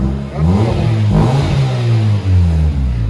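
A 2008 Kia Spectra with a muffler delete revs up close and loud, its deep, non-raspy exhaust tone rising and falling across a couple of throttle blips.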